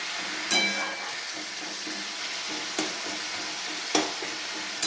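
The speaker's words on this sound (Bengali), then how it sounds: "এইভাবে খুন্তি করে একটু পেস্ট করে নেবো" A metal spatula scraping and mashing spices into a paste in a pan for a duck egg curry, soft intermittent scrapes over a steady sizzle with a few sharp clinks.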